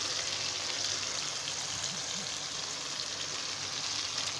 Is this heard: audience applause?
no